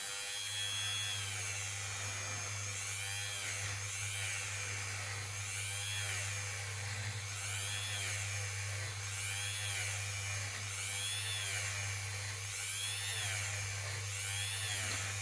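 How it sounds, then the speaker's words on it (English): A Dremel rotary tool hums with a steady high whine while shaping a ring made from an Italian 200 lira coin, close and continuous, with a low motor drone and rhythmic rises in pitch as the tool works the metal. "let's show it some love with our friend Dave the Dremel"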